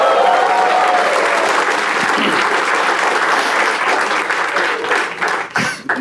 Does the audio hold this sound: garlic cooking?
no